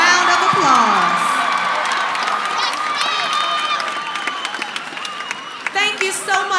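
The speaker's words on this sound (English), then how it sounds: "give our class of 2019 a round of applause" A high school graduation crowd applauds and cheers for the class of 2019, loud whoops and shouts riding over continuous clapping, with voices calling out throughout and the noise gradually easing.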